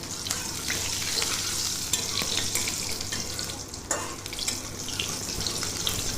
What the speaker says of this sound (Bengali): আর এবার আমি তেলের মধ্যে কালো জিরে ফোড়ন দিয়ে দিলাম, আর দিয়ে দিলাম দুটো কাঁচা লঙ্কা।